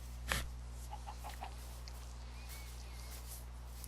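A chicken in the Minecraft video game gives a few short clucks in quick succession over a steady low game hum.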